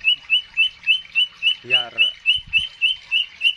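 A caged songbird at a bird singing contest repeats a loud, rapid chirping phrase in a steady rhythm, several calls per second, while someone briefly speaks over it.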